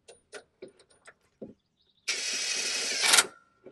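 An impact wrench fitted with a 1/2-inch drive metric impact socket, joined through a universal joint, hammers a lug nut tight in one loud buzzing burst lasting about a second, after a few light clicks of the socket being seated.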